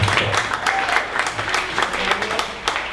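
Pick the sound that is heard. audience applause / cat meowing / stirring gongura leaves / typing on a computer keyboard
audience applause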